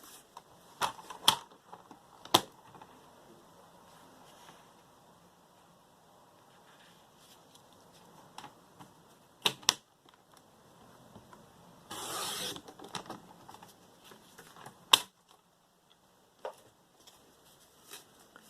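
Scissors trim around a handmade paper bookmark for a journal, giving a few sharp, isolated snips and clicks close by, with a short rustling burst midway and quiet gaps between cuts.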